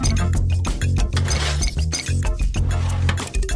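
Egg yolks are whisked into milk in a bowl, with rapid, irregular clinking and scraping of a utensil against the bowl that continues busily throughout, close and fairly loud.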